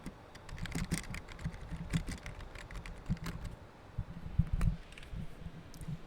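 Rapid typing clicks on a computer keyboard fill the whole stretch, close and steady with irregular bursts of keystrokes and a faint fan hum underneath.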